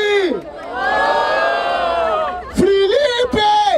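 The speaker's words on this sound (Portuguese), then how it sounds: "Vamos lá! Barulho para as rimas da Todd!" A crowd at a rap battle, the 112th Batalha da Aldeia in Barueri, São Paulo, roars and chants loudly and close by in sustained, overlapping voices, with a brief dip before surging again.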